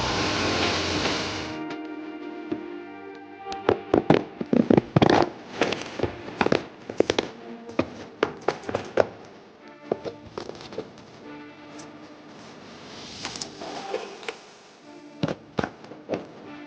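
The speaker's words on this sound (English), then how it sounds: "So I'm cutting the welt threads that attach the welt to the shoe." Welt threads being cut while a pair of Iron Ranger boots is ripped apart, heard as a dense run of sharp snapping pops and crackles, close and loud, in irregular bursts with short pauses between.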